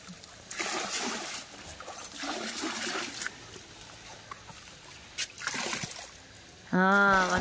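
Water splashing and sloshing at a swimming pool in Dandeli as someone pushes it, heard under nearby chatter and voices, with a louder burst near the end.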